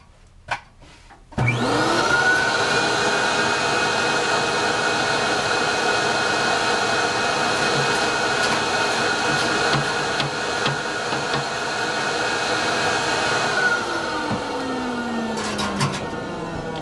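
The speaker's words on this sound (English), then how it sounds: "I'm going to use a vacuum here just to protect myself a bit." A vacuum cleaner starts with a click and runs loudly and steadily for about fifteen seconds while refilling an HP 12A laser toner cartridge, then winds down near the end.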